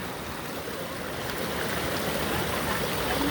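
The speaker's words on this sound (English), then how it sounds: "The stream over here." Steady broadband rush of a stream flowing near a waterfall, continuous and fairly close, swelling slightly louder partway through, with no voices.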